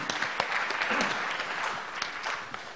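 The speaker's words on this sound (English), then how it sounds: "Applause, please." A conference audience gives a short round of applause. The clapping is dense and moderately loud and fades slightly toward the end.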